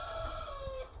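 Backyard chickens vocalizing close by in a short, quiet burst, with drawn-out tonal clucks and a crowing-like call over a low rumble, lasting about a second.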